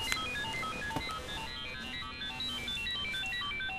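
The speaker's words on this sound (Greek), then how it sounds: "Δεν θα σηκώσει το κινητό σου?" A mobile phone ringtone playing a bright, repeating electronic melody steadily and fairly loud, with room noise underneath and no talk.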